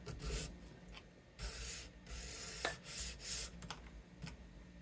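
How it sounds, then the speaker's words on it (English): Quiet, close scratchy rasping of sandpaper on a guitar nut for an ESP LTD EXP-200, in short irregular strokes with brief pauses between them. "a little bit of sanding"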